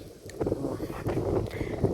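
Gusty, cold wind buffets the microphone in uneven bursts, a rough blustery roar outdoors near the sea, with no one speaking.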